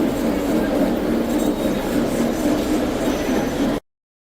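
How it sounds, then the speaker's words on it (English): A model steam locomotive at a train show runs with a steady mechanical rumble and light metallic clinking, then the sound cuts off abruptly. "Got this nice steam locomotive right here."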